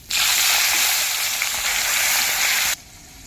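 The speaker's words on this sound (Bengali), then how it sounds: "পেঁয়াজগুলি লাল করে ভেজে নিয়েছি" Chopped onion frying in mustard oil with bay leaf and whole cumin, a loud, even sizzle held for under three seconds before cutting off abruptly.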